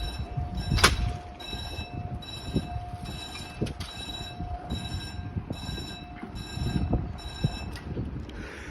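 A South Western Railway train on the Bournemouth and Poole to London service runs past with a steady rolling rumble, a thump near the start, a steady high electric whine and repeated bursts of tonal squeal, with some wind buffeting.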